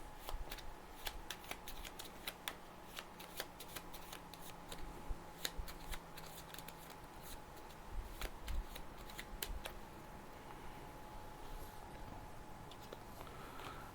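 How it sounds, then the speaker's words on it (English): A draw deck of cards for the My Little Pony Adventures in Equestria deck-building game shuffled repeatedly, soft rapid riffling clicks and flutters going on steadily and quietly nearby. "let's shuffle up the draw deck"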